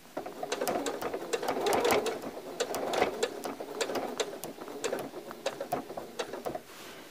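Sewing machine stitching quilt binding around an inner corner, a close rapid mechanical chatter of needle strokes that runs continuously with slight speed changes, and no voices.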